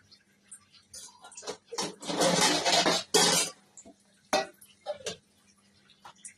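A metal lid settles onto a cooking pot holding a simmering mixed-vegetable curry with shing fish, giving a few clinks and taps and then a longer scraping rattle, close and fairly clear.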